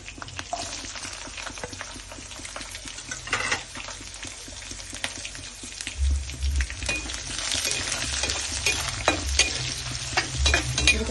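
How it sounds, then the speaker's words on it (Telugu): Chopped onion sizzles steadily in hot oil while a spoon stirs and scrapes the pan, giving continuous frying crackle with intermittent clinks, close and alone without speech. "ఒక చిన్న ఉల్లిపాయను కట్ చేసుకొని ఇలా కొద్దిగా వేగనిస్తున్నాను."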